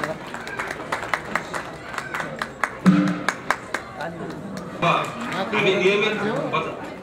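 Audience applause at a cooperative program gathering: a run of separate sharp claps, then a denser burst of clapping swelling toward the end, with voices murmuring underneath.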